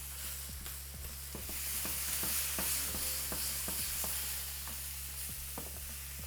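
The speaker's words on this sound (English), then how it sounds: "that brandy's going to just deglaze anything that was left on there" Brandy sizzling in a hot pan as it deglazes leftover browned bits for a from-scratch gravy, a steady close frying hiss with scattered crackles and occasional scrapes of stirring, no talking.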